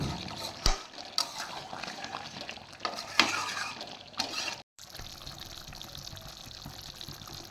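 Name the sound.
chicken frying and stirring with spice masala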